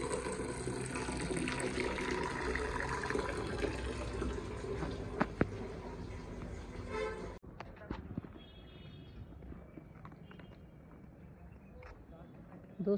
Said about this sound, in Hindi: इन्हें ना गर्म गर्म पानी में भिगाना चाहिए